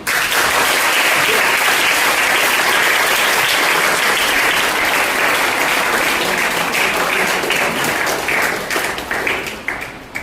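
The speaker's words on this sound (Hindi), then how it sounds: "तो आप लोग अपने साथियों के लिए तालियां बजाइए" Applause from an audience at a science festival ceremony, dense steady clapping that fills the whole stretch before thinning out near the end.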